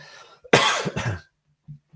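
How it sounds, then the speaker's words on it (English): A single harsh cough close by, followed by a short throat-clearing rasp, then quiet. "Man, this cough is killing me."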